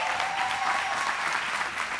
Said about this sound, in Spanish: ¡Un buen aplauso para Rubí!